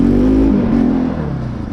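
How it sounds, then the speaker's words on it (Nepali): A modified Bajaj Pulsar NS200 motorcycle in a narrow street, a loud close burst of engine and exhaust note that drops in pitch and fades slightly over under two seconds. "आज चाहिँ गल्लीमा कस्तो साउन्ड आउँदो रहेछ मेरो बाइक चेक गर्नु है"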